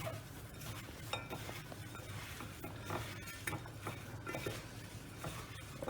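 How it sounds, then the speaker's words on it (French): Onions and garlic with sesame seeds stirred in a dry pan for chicken lemon tajine, a steady low clatter of utensil scraping and clinking against the pot, fairly quiet and continuous. "Maintenant, je vais bien mélanger ça."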